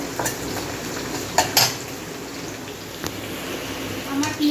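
Chopped chili, ginger and onion frying in a pan, a steady sizzle with the clink and scrape of a spoon stirring now and then, and a voice talking over it.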